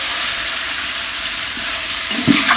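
Country chicken coated in masala fries in a pan while being stirred, a steady close hiss of sizzling with a soft scrape of the spoon near the end.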